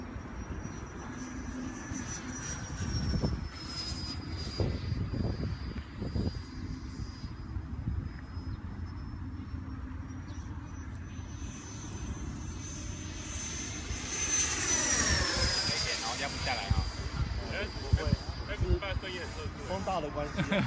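A remote-control F18 model jet flies in strong wind. Its thin, high turbine whine holds steady and then swells as it sweeps close overhead midway, with wind buffeting the microphone and people talking nearby.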